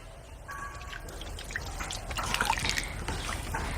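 Water trickles and drips into a pan of mutton being cooked down with spices, a soft liquid pour with scattered splashes over a low steady background hiss, close and fairly quiet.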